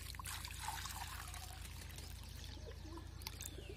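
Water trickles and pours steadily into a drinking bowl set out for wild birds, a continuous close splashing with a low rumbling background and faint bird sounds, no talking.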